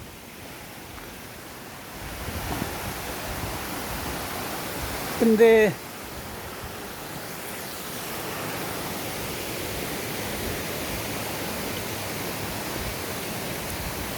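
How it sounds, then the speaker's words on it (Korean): A steady wash of running water from a mineral spring at a park in Busan fills the background throughout, with a brief spoken word partway through. "그래도 이거 시원한 물소리 들으니까 좋네요."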